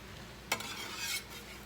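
Eggs frying in a pan, a quiet hiss of sizzling fat with a sharp scrape or clink from a utensil partway through, followed by a short swell of louder sizzle.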